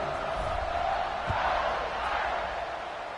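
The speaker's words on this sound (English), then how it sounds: "this crowd is buzzing after that last score" A college football stadium crowd buzzes after a Georgia touchdown, a dense, loud, steady roar of many voices with a faint thump midway.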